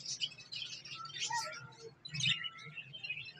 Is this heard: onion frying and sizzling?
no